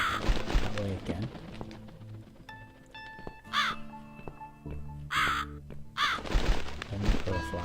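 Crows in The Cat Lady video game caw repeatedly in short harsh bursts, loud and close, against a low musical game soundtrack with occasional thuds.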